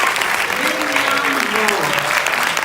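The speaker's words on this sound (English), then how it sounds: "A round of applause, please, for our" An audience gives a dense, sustained round of applause for a guest at a political talk event, with a voice speaking over the clapping.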